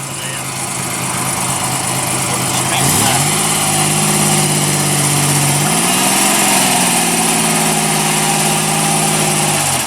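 A 1982 Ford Capri MKIII engine runs close by in a courtyard, a steady loud idle that dips and then rises in pitch with throttle changes, while voices talk over it.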